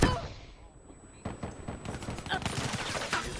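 Automatic gunfire in Call of Duty: Black Ops III multiplayer, rapid close bursts of shots starting after a quiet second and continuing in uneven volleys, with other weapons crackling in the background.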